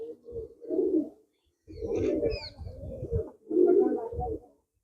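Pigeons, kept at home with their young, coo in several low, throaty, bubbling phrases close by, separated by short pauses, with a brief higher chirp in the middle.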